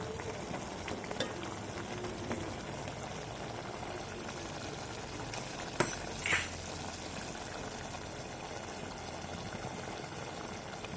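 Mutton pieces with salt cook in oil in a pot for a curry, giving a steady, soft bubbling simmer throughout with a couple of brief clinks near the middle.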